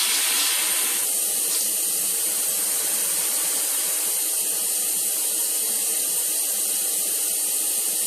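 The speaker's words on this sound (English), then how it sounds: "Pot under the cold water in the sink, and opening up the steam release valve." A cooking pot holds under cold water running from a kitchen sink tap, a steady loud hiss of flowing water that continues throughout, shifting slightly in tone as the stream hits the pot.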